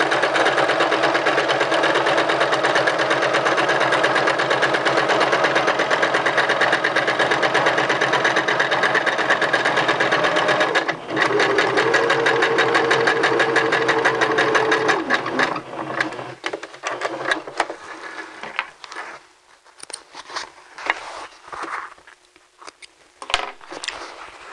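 Sewing machine running a long straight stay stitch at 2.5 length along a men's vest piece, a loud, steady whirring hum that slows, then breaks into short stop-start bursts near the end.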